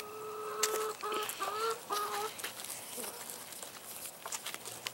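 Hens cluck in a few drawn-out calls early on, then the sound fades into soft rustling and scattered clicks.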